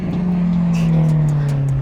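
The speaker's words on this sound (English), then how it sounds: "the cars here are so loud" Loud cars on a race track roar continuously nearby in a sustained, droning engine note.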